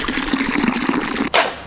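Water pouring out in a steady gushing stream for over a second, followed by a short sharp splash at the end.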